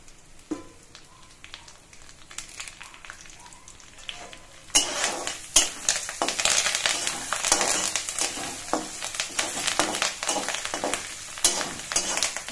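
Crushed garlic and curry leaves are dropped into hot oil and fry, starting quietly and then breaking into a loud, crackling sizzle with scattered pops and spatters midway that keeps going close by, with no voices.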